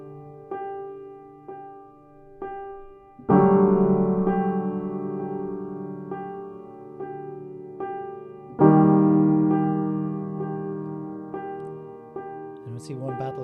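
Sampled piano notes ring out and decay, with soft single tones early on and two loud sustained chords struck several seconds apart, each fading slowly.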